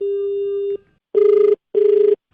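Telephone ringing for a radio prank call: one long ring tone, then two shorter pulsed rings with a warbling buzz, loud and close, with no voices.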